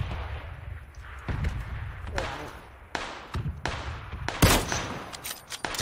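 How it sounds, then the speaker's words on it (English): Bursts of gunfire in a multiplayer shooter on the Vikendi snow map, with several sharp shots and rattling volleys at mid distance over steady low rumble and game ambience. "Lots of gunfire."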